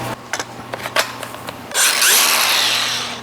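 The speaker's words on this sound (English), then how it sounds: "I'm gonna grind them both down. We'll get the flappy disc." A flap disc angle grinder grinding metal on a Geo Tracker, starting after a few short clicks and taps, then a loud, steady, bright grinding whir that slowly fades toward the end.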